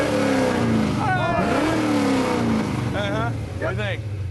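A Z51 Corvette's LS2 V8 fitted with performance headers idles loudly with a deep rumble and a brief rev, while people shout and talk over it nearby.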